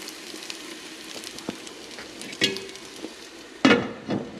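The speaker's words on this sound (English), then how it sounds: "Those potatoes and onions cooking up really well." Chicken burger patties, potatoes and onions fry in a pan with a light, steady sizzle and crackle, broken by a few scrapes and clatters of a utensil, the loudest near the end.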